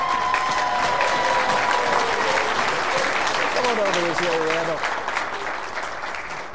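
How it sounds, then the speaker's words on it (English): Audience applause for a game show contestant, Randall Jones, loud and steady throughout with a crowd's broadband clapping, while a voice speaks over it and the clapping tapers near the end. "How about a big round of applause, everybody, for Randall Jones?"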